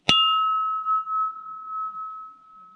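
A scrap electrical part is struck once and rings like a bell, with a sharp metallic hit followed by a clear, steady tone that lingers and slowly fades for several seconds.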